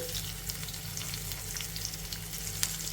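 Onion pieces fry with green chillies in a pan for a spinach and egg dish: a steady, close, loud sizzle that continues throughout, with crackling pops and no talking.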